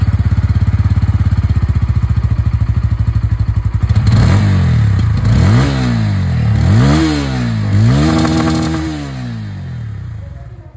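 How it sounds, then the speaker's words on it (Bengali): A Bajaj Pulsar N160 base-model motorcycle exhaust idles with a steady close thrum, then blips the throttle in four sharp revving bursts that rise and fall back, fading out at the end. "আপনারা এখানে যে বেস মডেল আওয়াজ আছে সেটা শুনে নিয়েছেন"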